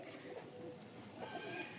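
Soft pigeon cooing murmurs through the clip, several birds calling over a steady low ambient hum, fairly close and moderately quiet.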